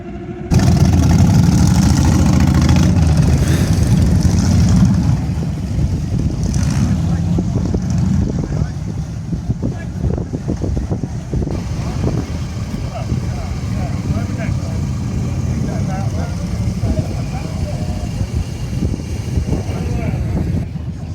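Motorbike engines idle and rumble steadily at a seafront bike event, loud and close at first, then settling into a continuous low drone with crowd noise throughout.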